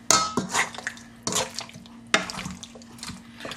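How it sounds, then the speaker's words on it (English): Chicken wings tossed around in a cooking dish to coat them, heard as three separate bursts of clattering and wet shuffling with brief ringing knocks, close up and without talk. "We just toss them around, get them all coated."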